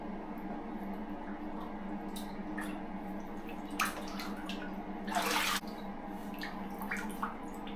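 Water splashes steadily over a hydro-dipped youth Ruger 10/22 rifle stock during rinsing, a continuous close wash with one brief louder gush partway through.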